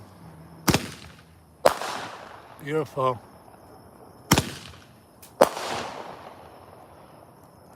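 A strobing red-tail firework bursts several times outdoors, sharp loud bangs at irregular spacing, each trailing into a crackling, fizzing tail, with a brief voice speaking between bursts.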